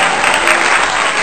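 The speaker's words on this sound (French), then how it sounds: "on va applaudir pour toi. Applaudis d'abord." Loud, continuous applause from a crowd, dense and unbroken at close range, with some voices faintly mixed in.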